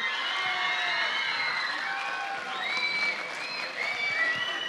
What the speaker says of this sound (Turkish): Birincimizin kupası için kuvvetli bir alkış alalım.